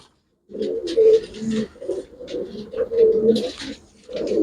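Pigeons coo repeatedly in soft, throaty bursts close by, with short gaps between calls and faint background rustling.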